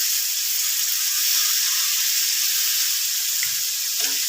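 Bhujia mixture seasoned with salt and half a lemon roasts in a pan, giving a steady, even sizzle and hiss throughout, with a faint scrape near the end.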